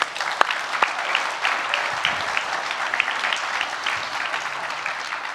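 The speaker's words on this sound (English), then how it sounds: "let me hear the round of applause" Audience applause at a gold investment webinar, a dense, steady clapping from a crowd sustained for several seconds with a few sharper individual claps standing out.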